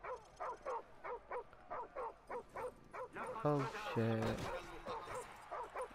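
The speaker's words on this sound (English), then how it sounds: "Okay, that's a dog." A dog in the shooter game Modern Warfare 2 barks over and over in a quick, steady rhythm at moderate distance, with a short whimpering cry in the middle and someone speaking briefly over it.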